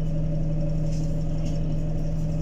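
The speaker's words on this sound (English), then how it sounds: "on this one they changed the gearbox and now it jerks a lot like a manual" An ADL Enviro 200 E20D bus fitted with a new gearbox runs with a steady engine hum and a strong low drone from inside the cabin. The jerking is not clearly marked.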